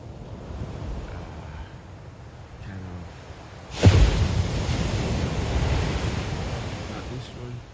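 Waves wash onto a solitary beach as a steady, broad roar mixed with wind buffeting the microphone, with one louder surge breaking close by midway.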